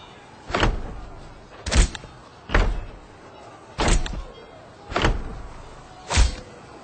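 Six evenly spaced heavy thunks of a door in the Millennia strategy game, each a sharp low slam with a short tail, repeating about once every second and a bit with quiet between.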